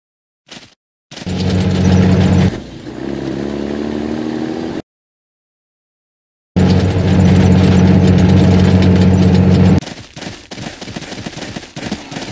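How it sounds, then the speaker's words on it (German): A military vehicle engine in a World War I era war game set in Africa, 1914, cranks with a brief burst, cuts out, then roars to a loud, steady rumbling idle that later fades into scattered mechanical clatter. "Verstanden. Motor an."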